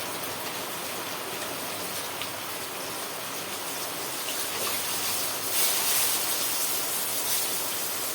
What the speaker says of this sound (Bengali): দেখো কি জোর আবার বৃষ্টি হচ্ছে